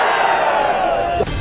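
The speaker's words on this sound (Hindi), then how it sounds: "निरहुआ भीड़ से भारत माता की जय जयकार लगाने की" A crowd at a political road show in India roars a patriotic chant, a loud massed shout of many voices that swells and then breaks off abruptly near the end.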